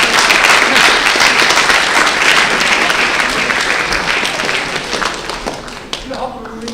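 Audience applause at a leadership talk, loud, dense clapping from a large crowd that holds steady and then gradually thins and fades toward the end.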